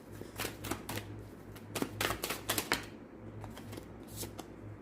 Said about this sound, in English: I want to give this another good shuffle